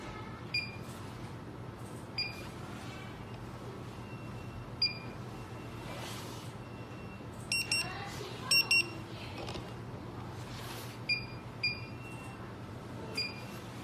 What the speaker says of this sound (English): Here's the beeping sound.